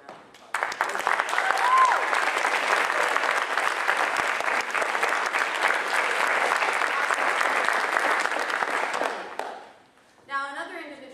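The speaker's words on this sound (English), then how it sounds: "I think he deserves a round of applause" A school play audience breaks into loud, sustained applause that holds steady for about nine seconds, then fades out and gives way to a brief burst of faint, indistinct voices.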